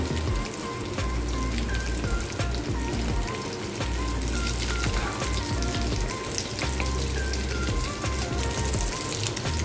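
Dense, steady sizzle and crackle of banana flower chops deep frying in hot oil, close and even throughout with no voices.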